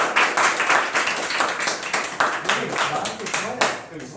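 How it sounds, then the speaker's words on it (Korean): An audience at a student information session breaks into brisk hand clapping, a dense patter of claps that swells and fades unevenly over a few seconds, with a voice briefly heard underneath. "박수 한번 부탁드립니다."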